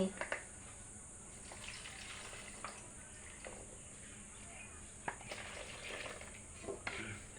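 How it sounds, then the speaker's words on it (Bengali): Taro flower being washed in water by hand, with faint splashing and intermittent rinsing sounds under a steady background hiss. "এখন আমি কচু ফুলটা ধুয়ে নেব ধুলে আমি কচু ফুলটা ধুয়ে নিচ্ছি"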